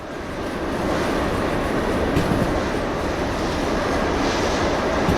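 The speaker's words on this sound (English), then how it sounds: "Two and a half kilotons of train we have here, or give or take." A heavy freight train of roughly 2,500 tons rolls steadily in the railway simulator game Derail Valley, a constant broad rumble with faint rhythmic wheel clatter and no talking.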